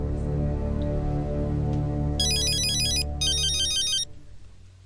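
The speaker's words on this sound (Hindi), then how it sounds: "बेटा उस लड़के का फोन आ रहा है।" A phone ringtone plays in two bright electronic bursts over a sustained low musical hum that drops away near the end.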